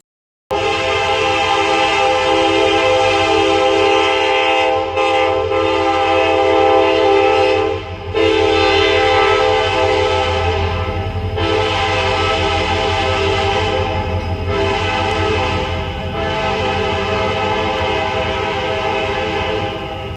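Canadian Pacific freight train led by SD60M locomotives, including former Soo Line Triclops CP6262: a loud, sustained multi-tone horn blast sounding nearby, with brief dips, over the rumbling engines and passing cars.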